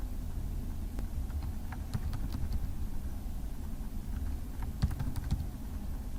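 Scattered keyboard taps, a few quick bursts of clicks separated by pauses, over a continuous low engine-like hum.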